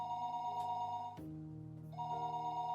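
A telephone rings inside the Higurashi video game, a sustained electronic bell tone that stops briefly and then resumes, clear and steady with no talking.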